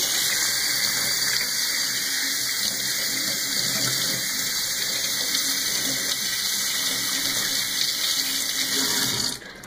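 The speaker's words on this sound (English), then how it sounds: "So I'm just going to wash it under the tap for a bit" Tap water runs steadily into a sink while celery stalks are washed under the stream, a continuous close gushing that ends abruptly as the faucet shuts off.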